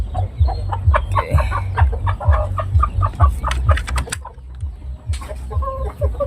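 Several Shamo and Aseel chickens, including a hen, cluck close by in quick, uneven bursts, with sharp higher calls and chirps scattered over the top.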